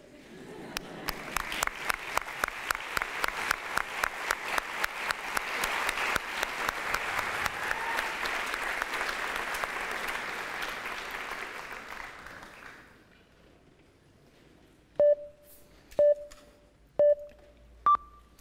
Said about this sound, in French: Applaudissez avec moi Yaya